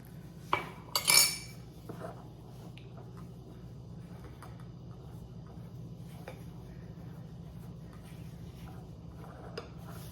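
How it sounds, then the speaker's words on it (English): A utensil clinks and scrapes against a bowl while lemon crinkle cookie dough is mixed with lemon juice, a few sharp knocks early on, then quieter intermittent taps over a low steady hum. "so I add 1 lemon juice tablespoon, and I'm mixing it again"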